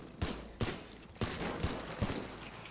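Five sharp gunshots fired from a gun in the game Teardown, loud and close, spaced in an uneven rhythm with short decaying tails and no talking.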